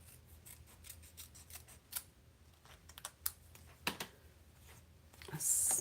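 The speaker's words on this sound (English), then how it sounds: "I'm gonna cut a smidge off of that side" Scissors snipping a small piece off one side, a series of quiet, close crisp cuts spaced irregularly, then a louder rustle at the end.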